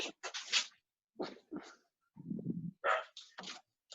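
Pet dog indoors, giving a short run of small barks and yelps with a low whimpering whine between them, close and moderately loud with no talk over it.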